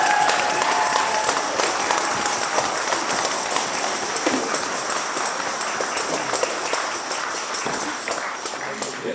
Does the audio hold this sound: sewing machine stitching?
no